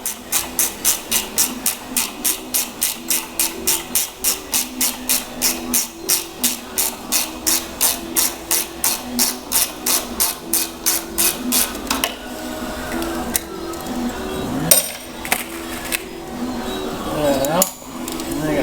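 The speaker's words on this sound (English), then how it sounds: "Love these gear wrenches." Gear wrench ratcheting while loosening bolts during a Troy-Bilt transmission teardown, a quick regular series of close clicks for about twelve seconds, then scattered metallic knocks and handling noise.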